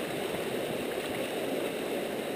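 Water and gravel swirling in a gold prospecting pan, a continuous close sloshing and gurgling rush with no pauses and no voices over it.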